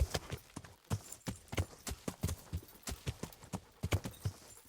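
Horse hooves clip-clop at a steady walking rhythm in Kingdom Come Deliverance, each clear close thud repeating evenly with no talk.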